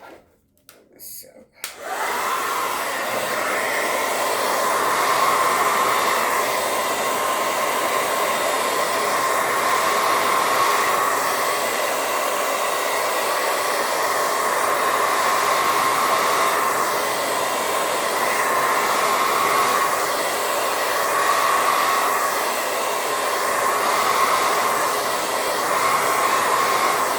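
A hair dryer blowing on wet paint, a steady loud close whir running almost the whole length after a few brief handling sounds at the start.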